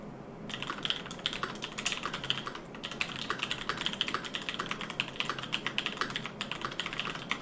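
Steady, rapid typing on a mechanical keyboard fitted with PCB-mount KL Pro purple tactile switches, giving crisp, close, continuous keystrokes at an even pace with no voices.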